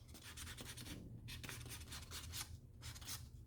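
Hand smoothing the edge surface of thin leather, a soft, steady rubbing and scraping texture with repeated strokes, close and fairly quiet, with no talking.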